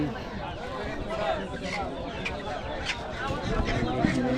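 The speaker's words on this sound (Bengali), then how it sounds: "দেশি মুরগি।" Native chickens cluck amid a busy village market, where steady crowd chatter and voices fill the background and short bird calls poke through the din.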